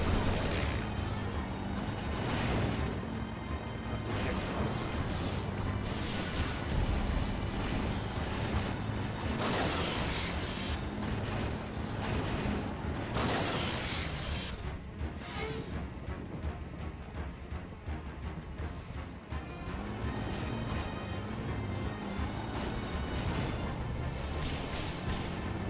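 Artillery fire in the video game Jak 3, a long run of heavy booming impacts scattered irregularly over a constant roaring wash, some blasts louder and closer than others, with no talking.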